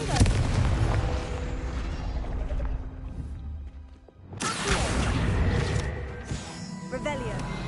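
A Confringo fire spell blasts in Hogwarts Legacy, a loud booming explosion with a roaring burst that decays, then a second heavy blast and crackling debris, all over game sounds and a voice.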